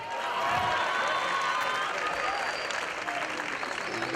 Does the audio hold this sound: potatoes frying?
no